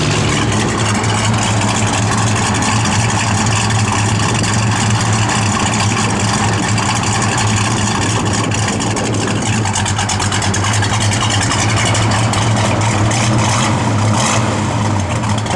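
A 1968 Plymouth Road Runner sits idling close by, its engine giving a steady, loud low rumble with an even rhythm and no one talking over it.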